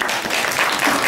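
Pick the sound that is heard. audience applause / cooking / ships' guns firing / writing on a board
audience applause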